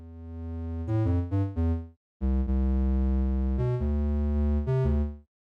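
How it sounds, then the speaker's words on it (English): Synth sub bass pushed through soft-clip distortion, giving a thick, buzzy harmonic-rich tone; a few short stabbed notes, a brief gap, then long held notes with pitch changes, loud and alone. "I get some distortion, some like soft clip."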